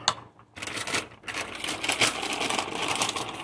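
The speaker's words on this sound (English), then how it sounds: "Kitchen scissors." Kitchen scissors snipping through woven crackers in a home kitchen, a close run of crisp clicking cuts and crunchy crackling that continues densely after a brief pause near the start.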